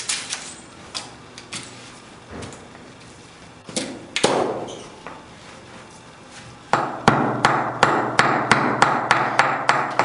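Sharp metallic strikes from the razor edge of a slag hammer distressing resin material on wood, scattered at first, then a fast steady run of close, loud blows near the end.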